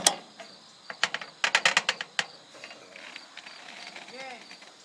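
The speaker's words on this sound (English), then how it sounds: "Ratchet it a little bit." A ratchet strap cranked tight on temporary steel arch braces during steel building assembly, giving a burst of rapid metallic clicks followed by a few scattered clacks and faint background noise, close by.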